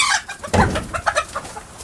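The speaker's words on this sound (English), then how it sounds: "Two hens aren't agreeing over there." Hens cluck and squawk agitatedly nearby on a farm, their overlapping calls forming a short, noisy squabble.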